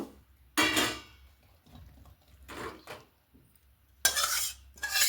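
Cooked capsicum prawn curry scraped and poured out of a pan, with a few separate clattering bursts of a utensil against metal and short quiet gaps between them.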